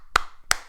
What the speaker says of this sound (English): Just a little clap for the man, Hayden Walsh Jr.